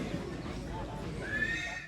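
A horse at a horse purchase gives a clear whinny toward the end, fairly close, with hoof sounds and people talking around it.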